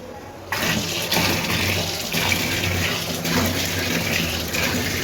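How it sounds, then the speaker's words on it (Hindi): Tap water gushes steadily into a container during kitchen cleaning, a loud, continuous splashing flow that starts abruptly and runs on without pause. "पानी डालते हैं इसमें थोड़ा।"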